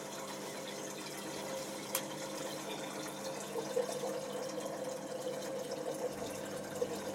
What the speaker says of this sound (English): It drains pretty fast though.